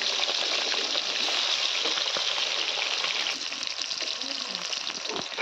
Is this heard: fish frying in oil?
yes